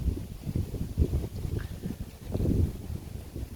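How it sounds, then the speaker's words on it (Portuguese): Gusty wind buffets the microphone with low rumbling thumps, rising and falling unevenly throughout, loud and close. "tá ventando bem aqui"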